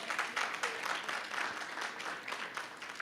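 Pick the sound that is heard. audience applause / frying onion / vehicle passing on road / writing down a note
audience applause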